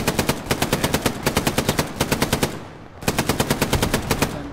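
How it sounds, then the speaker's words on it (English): Machine gun fire in the WWII shooter Hell Let Loose, long rapid bursts of evenly spaced loud shots, pausing briefly before another burst resumes. "there's an MG set up in the actual place."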